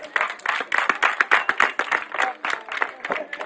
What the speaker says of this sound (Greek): Κάτσε κάτω, χειροκρότημα δυνατό